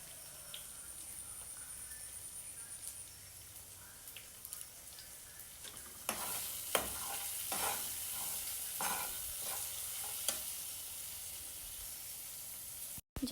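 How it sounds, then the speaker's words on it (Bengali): Cumin and dried red chillies frying in a pan for a lauki kofta dish, a quiet sizzle with intermittent stirring and scraping strokes growing louder partway through. "জিরে আর শুকনো ঝাল দিয়ে দিচ্ছি। এবার ভেজে নেব।"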